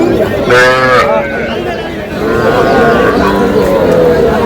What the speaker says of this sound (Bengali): মমিন ভাইকে গরুগুলো দেখছেন